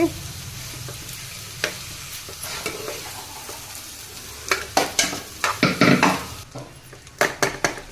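Coriander rice being stirred and mixed in a hot pan, a low sizzle beneath irregular scrapes and sharp clinks of a spoon against the pan that grow busier toward the end, with no speech.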